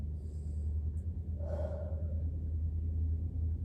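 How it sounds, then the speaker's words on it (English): A single deep breath during a yoga forward fold, heard as one brief, soft airy inhale and exhale over a low steady room hum, with no talking. "Taking a deep breath here."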